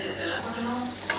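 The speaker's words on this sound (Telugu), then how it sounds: "కొంచెం వాటర్ వేసుకుందాం" Water poured into a cooking pot of homemade chicken fry, a steady close splashing rush that runs without a break for about a second.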